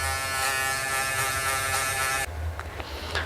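Electric hair clippers fitted with a 1.5 guard, lever closed, run through a man's hair during a taper fade cut, giving a steady close buzz that drops into a quieter, rougher hum partway through.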